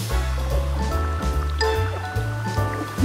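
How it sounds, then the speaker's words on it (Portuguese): Cartoon water stream flowing along the ground, a steady watery rush mixed with a tonal music score, continuous and fairly loud throughout. "Aquali, você pode fazer a corrente d'água ir até a bola?"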